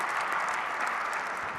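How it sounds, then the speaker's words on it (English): Audience applause for the FIFA president at the CAF Awards 2024 ceremony, a dense, steady wash of many hands clapping throughout, moderately loud and without talk. "Can we please clap hands for the president of FIFA?"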